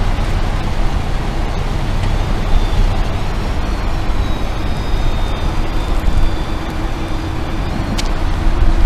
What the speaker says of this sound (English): Okay, still not there, so I'll drive it up a little bit more.